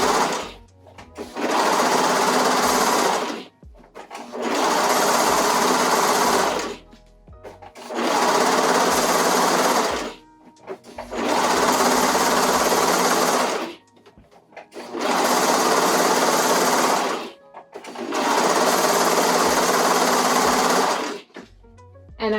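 A sewing machine top stitching a swimsuit runs in six steady bursts of a few seconds each, separated by brief pauses, loud and close.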